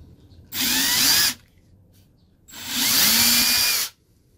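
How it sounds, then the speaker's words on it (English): A power drill bores out a bolt hole with a smaller bit, in two steady bursts of roughly a second each, close and loud, with a short quiet pause between them. "And then I take a smaller bit and I just drill it out."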